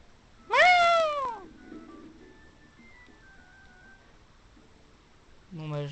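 A ginger cat lets out one clear, rising-and-falling meow near the start and begins another at the end, with quiet background sounds between.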